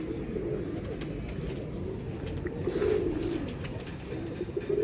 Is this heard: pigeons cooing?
yes